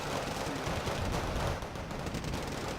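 Gunfire in the Wargame Red Dragon strategy game: a dense, continuous crackling barrage of shots running the full length, loud and unbroken.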